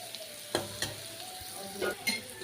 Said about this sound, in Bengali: এই সময় মশলাটা খুব ভালোভাবে এর সাথে মিশিয়ে দেব